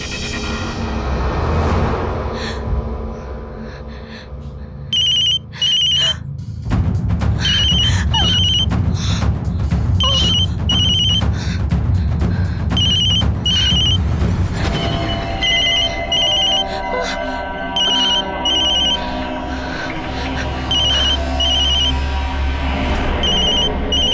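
A telephone rings repeatedly in short bursts through a Hindi horror drama scene, its bell pattern recurring over a dense bed of background music and effects, with no talking.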